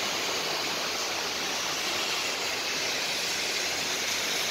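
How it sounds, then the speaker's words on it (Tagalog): Rain floodwater rushing along a street during a downpour in Bahrain: a dense, continuous broadband roar of flowing water and rain, steady and loud throughout with no voices. "Kita nyo guys, kita nyo na yung baha sa kalsada."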